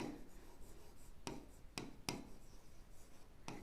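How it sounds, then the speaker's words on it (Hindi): Algebra equations being written on a board during a class, soft scratchy strokes with several sharp taps, faint and close, with no talking. "चलो अभी हम यहाँ पे लिखते हैं"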